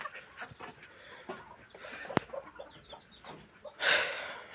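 Backyard chickens cluck and murmur in short, uneven bursts nearby, with occasional sharper calls and a louder rustling flurry toward the end.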